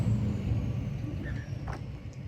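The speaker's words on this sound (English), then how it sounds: "1 second as this loud ass truck goes by." A loud truck passes close by outdoors, its heavy low engine rumble steady throughout with a faint hiss of air brakes near the end.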